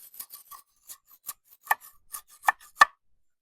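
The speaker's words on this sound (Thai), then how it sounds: "ตอกไม้พี่น้องเอาไม้ไปตอกเฮ็ดเตียงเนาะ" Bamboo wood being pounded and chopped for building a bed, a series of sharp, fairly close knocks at an uneven pace, growing louder toward the end, with no talk.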